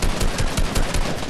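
Rapid gunfire from a weapon in Fortnite, a dense, loud stream of repeated shots with no gaps, close and steady throughout.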